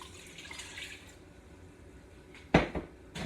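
Canned tomato soup glugs out of the can into a cooking pot with a short wet splat near the end, after a stretch of soft kitchen clatter.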